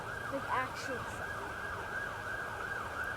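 Emergency vehicle sirens wail at a distance near the Oklahoma City National Memorial, a repeating rising-and-falling tone cycling several times over a low background hum, fairly faint.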